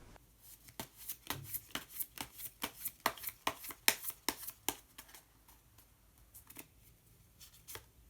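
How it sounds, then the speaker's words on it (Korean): Color cards being shuffled and handled from a deck, a close run of quick crisp flicks and snaps in an irregular rhythm, thinning out toward the end. "색깔로 알아보는 컬러 카드 한 장 더 뽑아보도록 하겠습니다"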